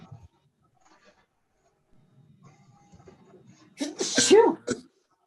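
A single loud, sharp sneeze from a person in a quiet Board of Trustees meeting room, preceded by faint rustling and brief murmurs.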